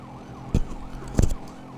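A police car siren wails faintly in the background, rising and falling, broken by two heavy thumps close by.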